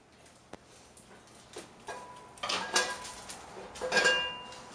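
A metal pan is handled with light clinks and scrapes while vegetable oil goes in, ahead of flash-frying salmon at a chef competition; a few sharp taps, then louder clattering bursts near the end, close by.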